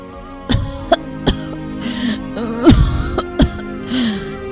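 Repeated harsh coughs and throat clearing from a persistent, worsening cough, several sharp bursts spaced a second or so apart, close and loud over a low musical background.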